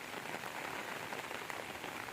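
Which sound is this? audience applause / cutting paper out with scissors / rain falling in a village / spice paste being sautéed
rain falling in a village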